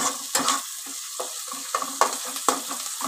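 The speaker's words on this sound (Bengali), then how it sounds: "একটুখানি লাল লাল করে ভেজে নিই।" Gourd, potato and prawn pieces frying in a pan until lightly browned, a continuous sizzle broken by repeated sharp scraping stirs and utensil knocks at an uneven rhythm, close and fairly loud.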